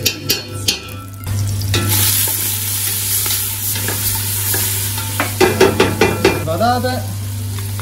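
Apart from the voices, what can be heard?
onion and potatoes sautéing in pan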